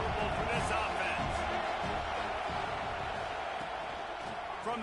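A football stadium crowd at a college game roars against the offense, a continuous wash of loud, sustained noise that eases slightly toward the end.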